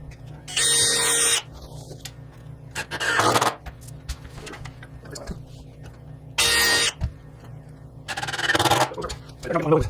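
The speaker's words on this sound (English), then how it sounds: "So I'm going to drill 2 new holes." Power drill boring holes through a wooden crosscut sled in a workshop, four loud whirring bursts of about a second each, separated by quieter pauses with faint handling noise.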